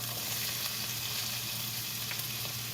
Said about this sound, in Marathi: मस्त फोडणी झालेली आहे.